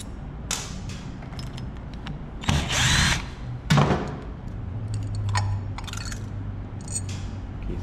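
Power tool whirring in short bursts while the four screws come out of the carburetor float bowl on a Yamaha DT175 two-stroke motorcycle, with two louder spells in the middle and quieter workshop noise around them.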